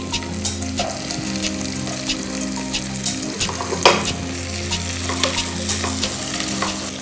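Chopped capsicum frying with softened onions in a pan for capsicum rice, a loud steady sizzle under low stove hum, with occasional stirring clatters and one sharper splash of noise midway, no speech.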